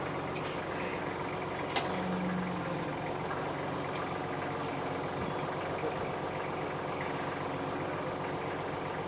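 A tractor engine runs at a steady low idle, a continuous rumble at moderate distance with no clear changes in pace.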